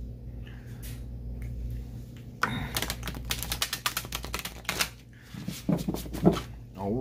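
A tarot card deck being shuffled, with bursts of quick papery riffling and flicking clatter over a low steady hum, loud in the middle and fading toward the end.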